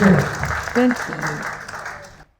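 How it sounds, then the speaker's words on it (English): Applause from participants at a mandala art healing workshop, a burst of clapping that fades out gradually, with a voice speaking briefly over it partway through. "Big round of applause to all of you."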